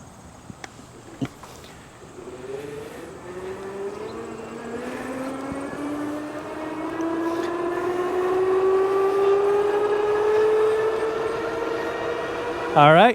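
A 5th Wheel Thunder 2 electric bike motor whines steadily higher in pitch while climbing uphill at about 19 mph, a smooth rising electric tone over wind rush, with a brief spoken remark near the start.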